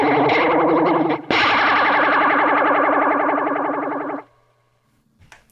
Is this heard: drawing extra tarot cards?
no